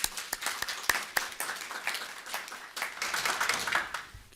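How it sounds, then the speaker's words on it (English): Scattered applause from a small audience at a Paulding County Board of Commissioners work session, uneven claps breaking out and thinning over a few seconds, moderately close and fairly light. "Round of applause for that."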